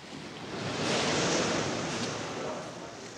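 Strong wind and high, rough waves on the open Pacific about ten miles off the coast of Patagonia, a loud continuous roar that swells toward the middle and then eases slightly.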